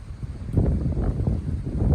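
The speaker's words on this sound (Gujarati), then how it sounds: "જો અમારે એટલો પવન છે." Strong wind gusts through a mango orchard and buffet the microphone with a low, rumbling roar for two seconds, with no voices.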